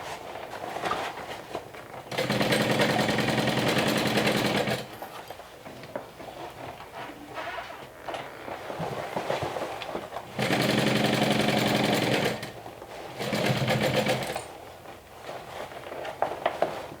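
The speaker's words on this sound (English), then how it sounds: "we're going to stitch all around here" Sewing machine stitching around the back panel of a garment while a pocket is held clear, in two loud sustained bursts with quieter handling sounds between them.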